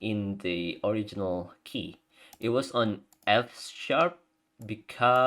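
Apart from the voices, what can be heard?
No everyday noise stands out behind the speech.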